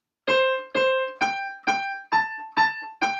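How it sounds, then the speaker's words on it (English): Single-note piano melody played alone without chords, seven clear notes struck one after another at an even, unhurried pace, each ringing briefly before the next, close and quiet with no other sound. "So if I were to play a melody by itself,"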